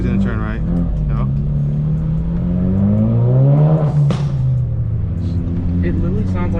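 A 2018 Audi RS3 quattro accelerates in city traffic, its engine note rising in pitch before a sharp blow-off valve whoosh, then settling into a rumble, heard from inside the car with people talking over it.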